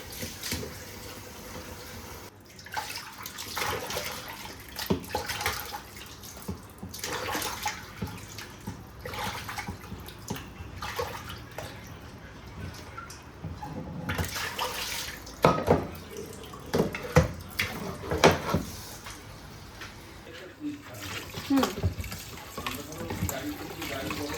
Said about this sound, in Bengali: ধুয়ে নিই, হ্যাঁ একটু ভালো করে ধুয়ে নিই